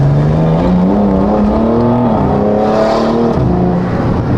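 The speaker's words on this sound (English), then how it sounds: "So now we're gonna log it actually shifting through the gears this time." BMW M4 Competition, high mileage and freshly tuned, accelerating hard under load with engine pitch climbing steadily and dropping at a gear change before climbing again, loud and continuous.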